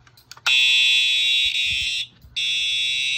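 Fire alarm sounding after a Simplex 2099-9754 pull station is pulled, a loud shrill electronic tone held steadily, briefly faltering and cutting out before resuming, as its dying battery weakens it; low handling noises underneath.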